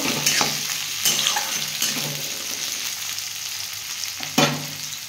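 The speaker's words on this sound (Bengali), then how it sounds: "একটু পেঁয়াজ দিয়ে দিলাম, দিয়ে এটা একটু ভেজে নেব।" Onion with garlic fries in an oil-filled pan, making a steady close sizzle broken by a few sharp stirring clatters and scrapes, with no voices.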